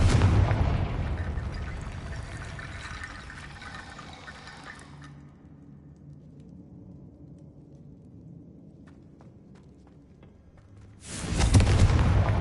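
Confringo blasting spell explosions in Hogwarts Legacy, a loud booming burst that rumbles and fades over several seconds, with a second heavy blast erupting near the end, no talk.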